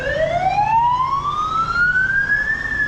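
Ambulance siren on a street in Macau, a loud rising electronic wail that climbs steadily in pitch as it passes nearby over steady traffic rumble, with no talking.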